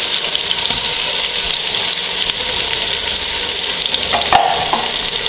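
Onion with ginger-garlic paste frying in ghee for aloo gobi, a steady close sizzle and crackle throughout, with a brief clink of a utensil near the end.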